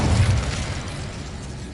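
The Incendio fire spell is cast in Hogwarts Legacy, a loud booming burst of flame that hits hard at the start and then fades into a rumbling whoosh.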